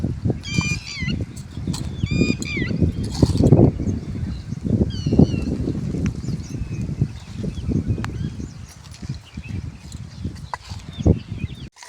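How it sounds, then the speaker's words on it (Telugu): Farm geese honk repeatedly in short nasal bursts, clustered early and scattered later, over constant rustling and bumping noise nearby. "మీ పక్షులు అయితే ఎట్లా అరుస్తున్నాయి చూడండి"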